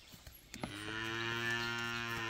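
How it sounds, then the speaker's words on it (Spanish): A cow that has just calved lets out one long, deep, sustained moo outdoors on a cattle ranch, fairly close, after a few faint knocks and shuffling sounds. "Aquí también ya parió la vaca palanca, esta vaca es mía."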